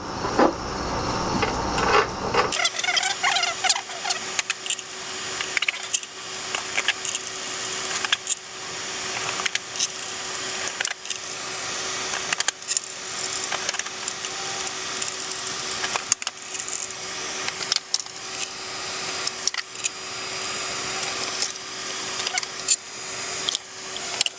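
Bolts snugged down by hand during a Paxton supercharger install, with oil pump gear and crank sprocket work, Gen 1 engine: a long run of repeated close, sharp ratcheting clicks and metallic taps in steady bursts, with no talking.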